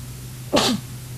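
A single sharp sneeze bursts out in a quiet room during the live finals of a Legacy Magic: The Gathering tournament, loud and close, with a low steady hum underneath.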